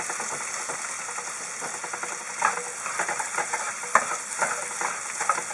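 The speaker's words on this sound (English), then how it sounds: "Just go ahead and stir it every minute or 2 till the sausage is done." Sausage for a mushroom and sausage risotto fries in a pan while being stirred: a continuous close sizzle with intermittent scraping and clicking of the stirring utensil, no talking.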